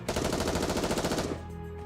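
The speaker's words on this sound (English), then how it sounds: "Asuka and Ray unleash a barrage of gunfire towards the core of the massive object" A rapid barrage of gunfire from the video game Nikke rattles loud and continuous for over a second, then cuts off abruptly into a quieter tail.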